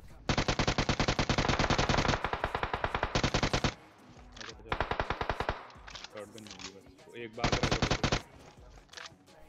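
Automatic gunfire in the mobile battle royale game PUBG Mobile rattles out in long, rapid bursts with short breaks, loud and close, with more scattered shots between the volleys.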